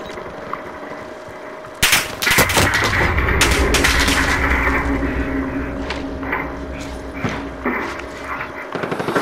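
Close, loud gunfire in Call of Duty Warzone on Rebirth Island, with a burst of sharp cracks followed by sustained firing and scattered later shots over game ambience.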